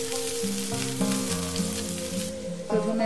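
Onion and green chillies fry in hot oil with a steady, close sizzle and crackle, and a low cooking hum runs under it.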